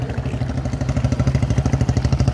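A police motorcycle idles and rolls along in an Independence Day parade in Ambala, its engine a steady, close, rhythmic low putter throughout.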